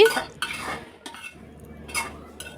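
A metal pot of greens cooked with dried fish is lifted off a home stove, giving a few sharp, close clanks of metal on metal with brief scraping between them and quiet gaps.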